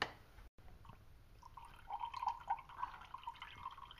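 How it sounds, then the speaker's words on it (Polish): Water trickles and drips into a bowl in a home kitchen while cooking pineapples, a faint, close, uneven splashing that grows a little busier midway before tapering off. "A jeszcze woda leci."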